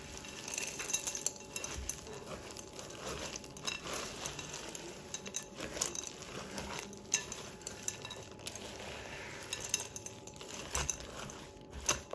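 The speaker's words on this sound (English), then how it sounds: "1 cup of semi-sweet chocolate chips and 1 cup of hazelnuts, coarsely chopped, and give it a stir." Chocolate chips and coarsely chopped hazelnuts get stirred into a bowl of scone dough, a steady soft scraping and clinking of spoon against bowl that runs continuously at low volume with no talking.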